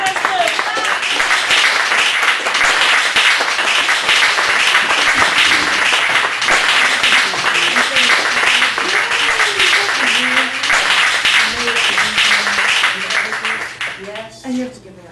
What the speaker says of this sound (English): give everyone give the hugest round of applause ever for give it up for Jenene Ravesloot